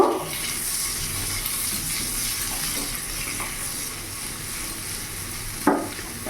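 Capsicum, tomato and onion sizzle steadily in a hot pan with butter while being stirred, a continuous close frying hiss with a brief louder scrape near the end; no one speaks.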